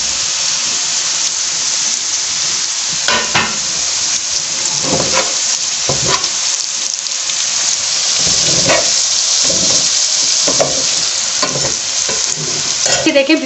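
Okra (bhindi) frying in a pan for Gujarati-style fried masala bhindi, a steady close sizzle broken by repeated stirring scrapes and clatters, with no talking.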